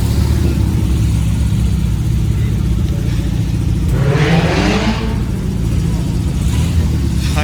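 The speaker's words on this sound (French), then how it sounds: "La 911R est sur le départ." A Porsche 911R pulls away with its engine revving up, a loud mid-pitched rumble that swells then settles, with someone talking over it throughout.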